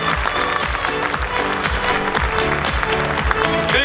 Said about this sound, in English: Big round of applause for Super Merle.